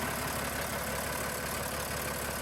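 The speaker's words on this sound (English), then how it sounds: "This Deutz engine BF6L" A Deutz BF6L six-cylinder 9.5-litre air-cooled diesel engine on an old 1990 articulated dump truck, running steadily with a dense, continuous mechanical drone and low rumble, close up and alone.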